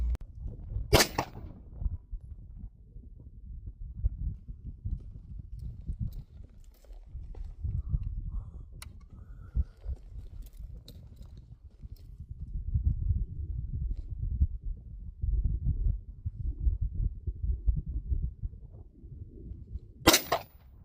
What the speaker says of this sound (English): I'm going to fire those first because that'll give me a general idea of how accurate the chronograph is